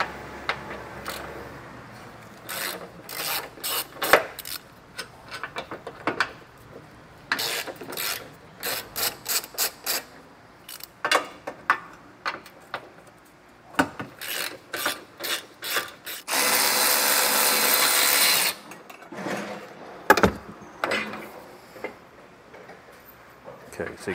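Ratchet removing 16 millimeter bumper beam bolts on a 2022 Audi Q5 during a trailer hitch install: rapid close ratcheting clicks in repeated bursts, with a longer continuous spin, and brief clunks between them.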